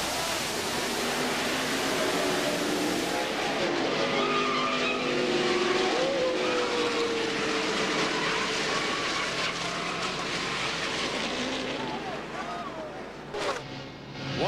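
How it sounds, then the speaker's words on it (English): A NASCAR truck slams into the outside retaining wall and tumbles down the straightaway. Loud, continuous roaring engine noise and grinding, screeching tire skids fill the whole stretch before it eases off slightly at the end. "in the outside retaining wall, and watch as he tumbles down the straightaway"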